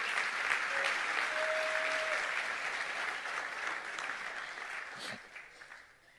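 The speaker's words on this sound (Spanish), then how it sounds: "Dale un aplauso al Señor" A church congregation claps for the Lord during a sermon, steady dense applause filling the room, then thinning and fading out toward the end.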